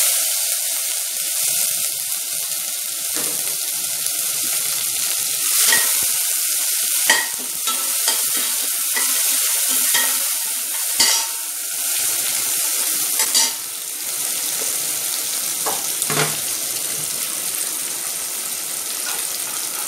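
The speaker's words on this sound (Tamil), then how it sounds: "போட்டுட்டு இந்த வெங்காயம் தக்காளியை இதோட போட்டுடலாம்." Onion and tomato with dried chilli fry in sesame oil in a pan, a steady close sizzle broken by a few stirring clatters and scrapes, with no talking.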